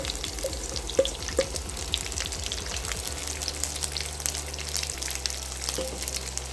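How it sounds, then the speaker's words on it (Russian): Steady sizzling and soft crackling of onions frying in butter in a pan, with faint low hum underneath and no talking. "Отправляем лук на сковородку."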